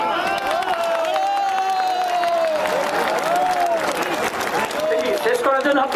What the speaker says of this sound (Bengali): শেষ করার জন্য হাততালি দিচ্ছেন।